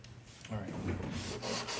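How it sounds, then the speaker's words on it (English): A wooden block is sanded by hand: close, soft rasping strokes that rise and fall in a steady back-and-forth rhythm. "I'm gonna sand this."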